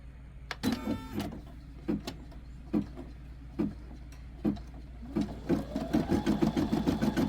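A Brother SE700 embroidery machine stitches letters, running in a rapid mechanical chatter with rhythmic thumps and a steady motor hum underneath, close by and with no talking.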